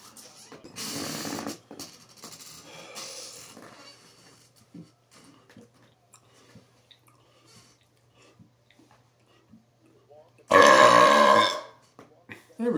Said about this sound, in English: I just am not getting that burp that is complete.